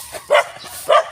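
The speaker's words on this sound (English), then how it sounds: "I can see all these dogs now." A dog in a Philippine village barangay gives two sharp, loud barks close by, separated by a brief pause.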